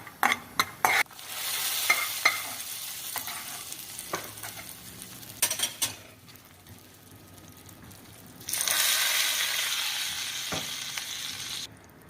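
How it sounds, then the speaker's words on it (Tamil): Cashews roasting until golden in a pan while being stirred for a sweet rice dish: close spoon scrapes and clatter over a steady sizzle that swells louder near the end, with no voices. "முந்திரி பருப்பையும் நல்லா பொன்னிறமாக வறுத்து அதில் போட்டுடலாம்."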